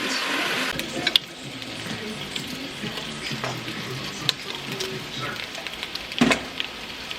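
Greenwise turkey bacon frying in a pan crackles and sizzles steadily up close, with sharp spattering pops and occasional utensil clinks scattered through.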